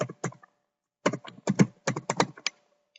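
Close, quiet clicking of a computer keyboard as a username and password are typed, a short burst of keystrokes, a pause, then a quicker irregular run of taps.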